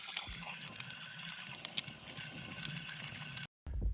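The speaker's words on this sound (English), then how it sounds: "Water." Water flowing steadily along a hiking trail on Madeira, a continuous close rushing wash with no talk, cut off by a brief silence near the end before resuming.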